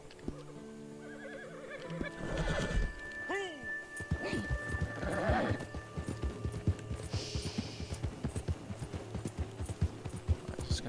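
Hooves clip-clop steadily while a wild horse neighs and whinnies a couple of times, with a game-like ambient backdrop.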